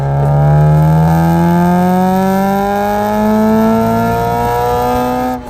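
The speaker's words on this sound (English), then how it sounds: "Installing some PLM headers on my car made a huge difference to the way the VTEC sounds." A Honda Accord CL9 with PLM headers revs hard, its engine note climbing steadily in pitch as the VTEC engages, loud and close throughout with no talk.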